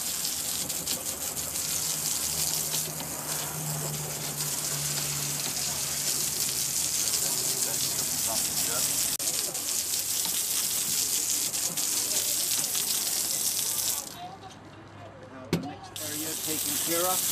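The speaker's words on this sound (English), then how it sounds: "I rinse it off just with a regular hose" A regular garden hose rinses a teak boat deck, giving a steady broadband spray and gush of water that runs continuously and fairly loud, then briefly drops away near the end.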